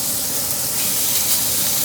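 Filet steaks searing in a hot cast iron pan give off a loud, continuous hiss and sizzle up close, steady and unbroken, with no talking.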